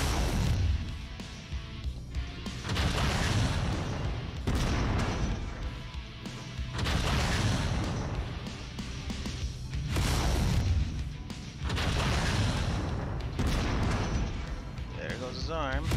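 Mech weapons firing in MechWarrior 5: Mercenaries, with repeated heavy booming volleys and crashing impacts in loud bursts throughout, while a person talks over the battle.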